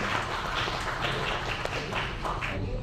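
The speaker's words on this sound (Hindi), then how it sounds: "मैं निवेदन करूंगा तालियां बजाकर मुमताज जी का स्वागत करें।" An audience applauding to welcome a guest at an indoor political gathering; steady, dense clapping from many hands, fairly near and continuous throughout.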